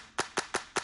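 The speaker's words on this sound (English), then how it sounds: "Right here I have a clap" Four crisp electronic clap samples from an FL Studio EDM beat hit in an even, quick rhythm, each sharp and bright with a short tail, alone and fairly quiet.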